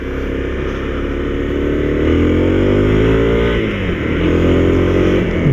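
A Honda CRF250L motorcycle pulls away and accelerates, its single-cylinder engine rising in pitch through the gears with a brief dip at a shift, heard close and fairly mild in tone with no talking.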